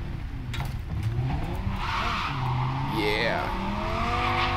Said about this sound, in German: Die hat auf jeden Fall schon mal einen besseren Sound als unsere Karre.